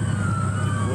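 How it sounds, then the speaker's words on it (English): A police siren wails steadily at a distance in northern New South Wales, its pitch holding high over a low rumble of traffic. "followed by a symphony of sirens"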